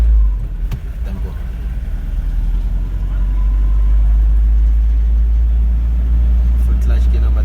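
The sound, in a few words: car accelerating after gear change during driving lesson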